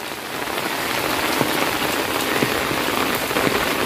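Steady rain pours down during the wet season beside an old well at a home in Jaffna, a dense, even patter on surfaces with no break and no voices.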